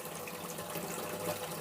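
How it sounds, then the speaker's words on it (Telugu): Water from a household tap running steadily over a removable front-load washing machine part being rinsed, a soft continuous splashing hiss, close and quiet with no talk. "మీరు ట్యాప్ కింద డైరెక్ట్ కూడా దీన్ని క్లీన్ చేసుకోవచ్చు"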